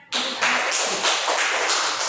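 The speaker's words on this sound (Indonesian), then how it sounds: "Kita beri tepuk tangan." A classroom group claps together in a short burst of applause, starting abruptly and sustaining as a dense, even patter of hands for about two seconds with no talking.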